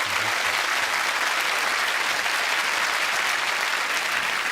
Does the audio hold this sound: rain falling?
no